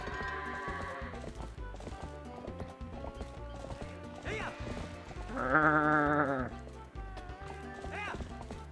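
Goats bleat in The Legend of Zelda: Twilight Princess over steady music and rhythmic hoof clops, with one louder, drawn-out bleat standing out near the end.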